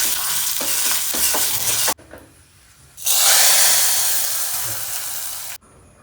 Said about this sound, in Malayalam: പിന്നെ വെളിച്ചെണ്ണയിൽ കടുക്, പിന്നെ വറ്റൽ മുളക്, ഇത് താളിച്ച് ചേർക്കാം.